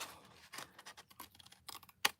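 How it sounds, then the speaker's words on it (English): Small fussy-cutter scissors snip at a partly punched-out paper shape, giving a quiet series of quick crisp clips and scratches that ends with one sharper snip. "I have to take my fussy scissors cutters to that."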